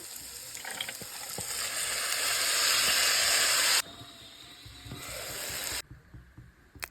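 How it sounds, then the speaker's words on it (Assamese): Local leafy greens and new potatoes fry in a little oil in a pan, giving a close, rising sizzle and hiss with stirring clatter. The sizzle drops suddenly twice as the pan is moved or the heat eases. "নতুন আলুৰ লগত বাৰীৰ পৰা ছিঙি অনা লোকেল শাক ভাজিছোঁ, একেবাৰে কম তেল নিমখ হালধিৰে।"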